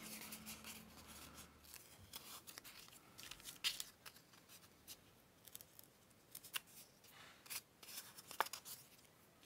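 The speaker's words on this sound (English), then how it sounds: "We were fussy cutting this out" Scissors fussy-cut paper for a junk journal, making soft, close snips and crisp paper rustles in an irregular run at low volume, with occasional handling sounds.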